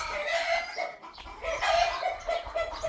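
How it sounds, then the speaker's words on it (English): Chickens clucking at a homestead in Mexico, a close, steady run of clucks and short calls continuing for a few seconds with no speech. "Yes, you hear chickens."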